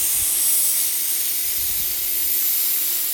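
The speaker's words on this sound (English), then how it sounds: "I'm gonna quickly release the steam" Pressure cooker quick-releasing steam after cooking greens with pork, a steady loud hiss of escaping steam running unbroken the whole time, close by and heard alone with no talking.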